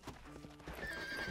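Horse hooves clip-clop and a horse neighs in the Red Dead Redemption video game, a short burst of galloping steps with a whinny rising over it, fairly close and alone without talk.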